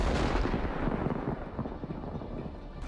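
A Bradley fighting vehicle fires its gun in combat, a loud booming blast followed by a long rumbling roar that slowly decays, with no speech.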